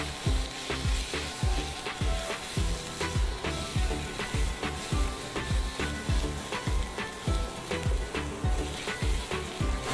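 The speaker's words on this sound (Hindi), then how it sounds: "अब एक बार इसको अच्छे से मिला लेंगे।" Spices with ginger and garlic paste sizzle in a hot pan as a spoon stirs them, a loud, close, continuous frying hiss with steady rhythmic scraping strokes and no talking.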